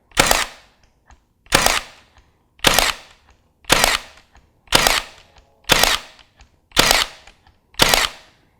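A Milwaukee M18 FUEL cordless 18-gauge brad nailer fires eight sharp single-shot pops in a steady, evenly spaced rhythm, loud and close, with no talking.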